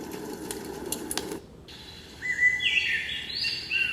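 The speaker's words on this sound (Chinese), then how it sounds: "这是丛林鸟叫声音" Jungle bird calls from a baby white-noise machine, high chirping and trilling notes arriving in bursts after a brief pause, clear against a faint hissy background.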